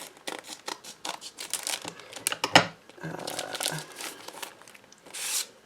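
Scissors snip open the plastic packaging of a stencil set, giving a run of close crinkling, rustling and sharp cutting snips at an irregular rhythm, loudest around the middle, with no voices.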